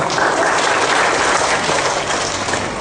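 Audience applause at a motivational talk by a successful doll entrepreneur, a dense steady wash of many hands clapping that fills the whole stretch evenly, loud and close, with no voices over it.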